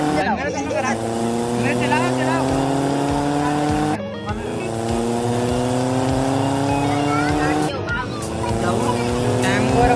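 A car being driven and shifting gears: a loud, whining engine climbs in pitch and drops abruptly at each of two gear changes, under excited voices talking.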